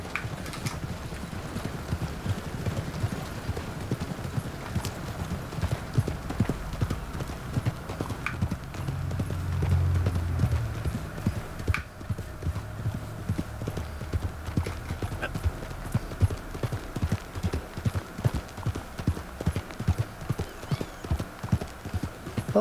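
A horse gallops in Red Dead Redemption 2, its hooves pounding in a fast, rhythmic stream under low game rumble. A brief snort or whinny comes partway through, and the hooves stay close and loud throughout.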